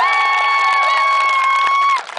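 An audience at an Edmonton summer street magic show claps and cheers for a young boy named Mikhail. A loud, sustained high tone rides over the close clapping and then cuts off near the end.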